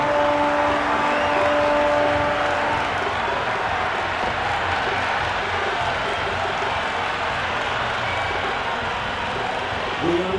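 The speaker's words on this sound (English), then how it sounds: "Listen to that crowd, they are loving this." A packed cricket stadium crowd at a T20 World Cup match between West Indies and Nepal roars and cheers in a dense, steady wash of noise that holds loud for the whole stretch.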